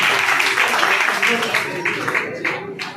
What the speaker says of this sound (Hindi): मैं चाहूंगा एक बार जोरदार तालियां होनी चाहिए अब्दुल अजीज गंगाराम बेड़ा साहब के लिए।